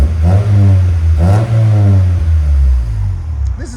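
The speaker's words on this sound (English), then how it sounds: "Now you can actually hear the muffler." A 1995 Acura Integra with a 5-speed, its exhaust revving through the muffler in two close, loud, smooth throttle blips followed by a steady rumbling idle.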